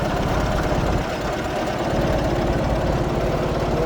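An MTZ-082 mini tractor engine chugs steadily at idle, a constant low mechanical rumble with no change in pace throughout.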